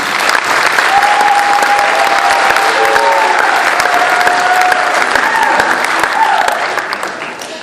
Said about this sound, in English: So let's give them a quick round of applause, please.